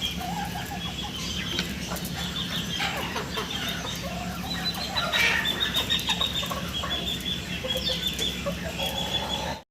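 Fancy foreign chickens clucking steadily in a busy farm enclosure, overlapping calls with occasional wing flaps and other birds chirping in the background.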